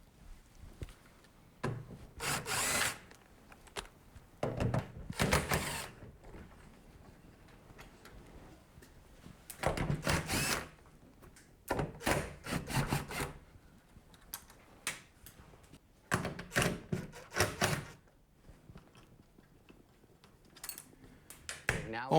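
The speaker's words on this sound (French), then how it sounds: "Maintenant, j'enlève ces 2 écrous du haut de cette charnière." Nuts being taken off the upper hinge of a garage door panel, with scattered wooden creaks, rubbing and metallic clicks coming in bursts between quiet gaps, close by and fairly faint, with some speech mixed in.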